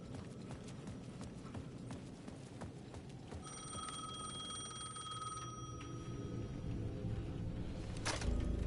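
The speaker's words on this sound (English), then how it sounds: "The payphone at the edge of the plaza was ringing again." A payphone rings in the video game Alan Wake II, with steady repeated electronic bell tones over a dark, rumbling ambient backdrop, then a brief click near the end as the call is answered.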